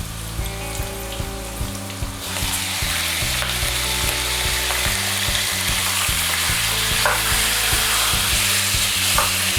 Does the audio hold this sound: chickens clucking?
no